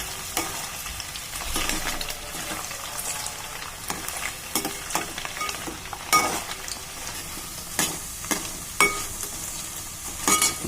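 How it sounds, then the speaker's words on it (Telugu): Paneer pieces fry in hot oil until golden, a moderate steady sizzle broken by repeated sharp scrapes and clinks of a spatula stirring in the pan. "గోల్డ్ కలర్ వచ్చే వరకు వేయించుకుందామండి"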